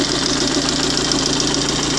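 A diesel engine converted to run fully on LPG idles steadily and evenly up close, a continuous rumbling drone with a faint rhythmic knock and no voices.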